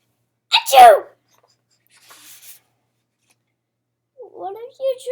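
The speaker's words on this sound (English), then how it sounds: "Sneezing. Oh no!" A single loud, close sneeze bursts out near the start, followed by a faint rustle and then a voice speaking briefly at the end.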